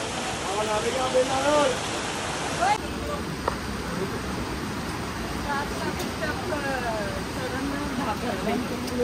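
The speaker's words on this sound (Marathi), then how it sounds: "आम्ही पोहोचल्यावरच पाऊस जोरात सुरू झालं यार." Heavy downpour at Marleshwar temple, a loud continuous roar of rain on surfaces close by, with people talking and calling out over it and occasional louder splashes.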